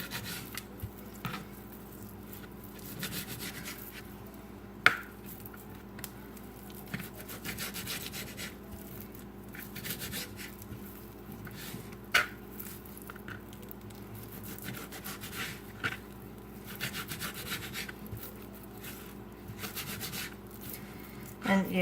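A knife that needs sharpening slicing through bacon, giving soft, rhythmic scraping and rubbing strokes close by with a few sharper knocks on the board, continuous for about twenty seconds.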